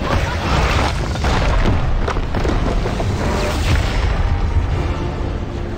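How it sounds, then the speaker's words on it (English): A keep crumbles in Heroes of the Storm as a deep, sustained rumbling boom with crashing debris, a loud, dense roar that holds steady for several seconds. "Your enemy has destroyed the keep."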